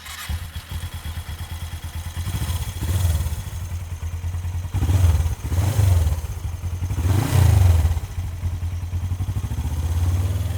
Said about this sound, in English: That sounds like an aftermarket exhaust to me, sounding very fruity.